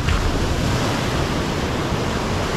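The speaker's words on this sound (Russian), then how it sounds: "Смотрите, какая волна." Sea waves break and wash steadily onto a beach in Turkey after a recent storm, a loud, continuous roar of surf with no voices over it.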